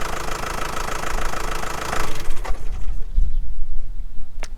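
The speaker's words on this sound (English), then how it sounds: "I'll just turn the engine on." A van engine idles in a steady, loud mechanical rumble with a rough knocking edge that settles after a couple of seconds, and a brief high bird chirp breaks through near the end.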